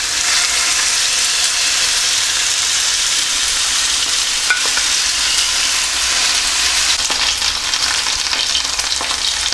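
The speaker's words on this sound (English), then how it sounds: "So the pan should be up to temperature now. And again, you have to hear that sizzle" Steak sears in a hot pan with a loud, continuous, close-up sizzle and crackle that holds steady throughout.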